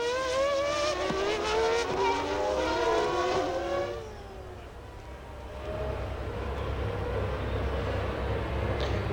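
Formula One cars on the parade lap of the 1994 Imola Grand Prix scream past one after another, high revving engines rising and falling, fading to a lower rumble before more cars approach, with faint commentary beneath.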